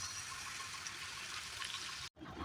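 Steady stream of water pouring into a pan, a continuous splashy rush that cuts off abruptly near the end before resuming briefly.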